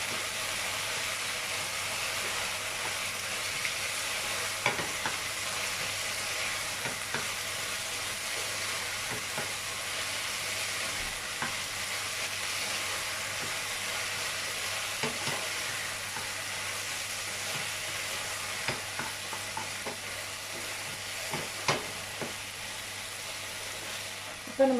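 Gobi Manchurian sauce sizzles steadily in a pan, a continuous close frying hiss broken by occasional clinks and scrapes of stirring, with faint talk in the background.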